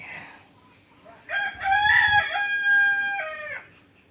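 A rooster crows once, loud and close, a long wavering call lasting about two seconds beside an old tile-roofed house, with only quiet background before it.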